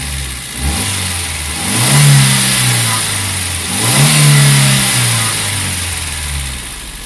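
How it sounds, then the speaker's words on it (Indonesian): A Suzuki APV Arena with a mid-mounted 1500cc engine starts, settles into a steady idle, then revs up twice in smooth swells before dropping back, loud and close with no talking. "Dan tentunya kita pengen denger dulu suara mesinnya."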